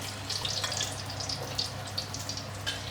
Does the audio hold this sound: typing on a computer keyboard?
no